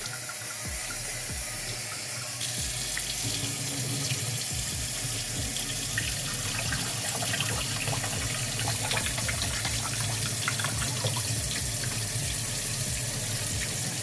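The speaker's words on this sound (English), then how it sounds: "So he's cleaning those potatoes. And that just helps remove any excess starch." A kitchen faucet runs steadily and loudly while potatoes are washed beneath it, the constant gush of water broken by splashes and knocks of the potatoes being rubbed in the stream; no talking.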